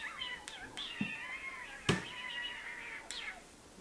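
A kitten meows in a drawn-out, wavering cry, close and fairly quiet, with a few sharp clicks and knocks from the room between its calls.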